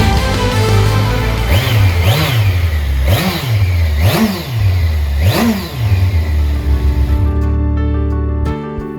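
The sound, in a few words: Kawasaki Versys 1000 GT motorcycle engine revving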